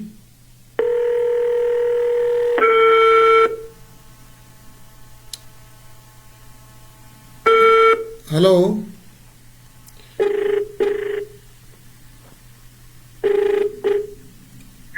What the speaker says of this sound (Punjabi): ਮੈਨੂੰ ਫੋਨ ਕੱਟ ਕੇ ਲਾਉਣਾ ਪੈ ਰਿਹਾ ਹੁਣ